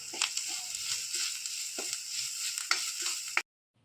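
Grated coconut being stirred into fried onions in a pan, giving a steady bright sizzle with a few soft spatula scrapes spread through it, close and even, ending in abrupt silence, no voices.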